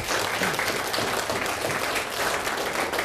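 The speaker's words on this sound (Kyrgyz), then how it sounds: "Үй бүлө деген кызыбызга бир жакшы кол чаап коелу." An audience bursts into loud, sustained clapping for a young woman on a Kyrgyz youth talk show, a dense wash of many hands close by that holds steady for about three seconds.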